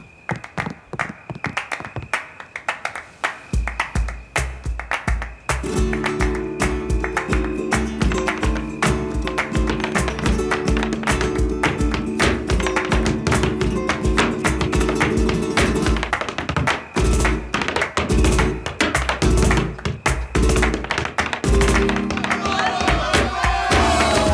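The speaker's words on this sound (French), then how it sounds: "je vous demande d'applaudir nos deux invités très spéciaux, Mouk et Chavapa" An audience at a flamenco show claps along, with sharp rhythmic taps and scattered cheers, then a steady stream of hand claps over tonal music from about five seconds on.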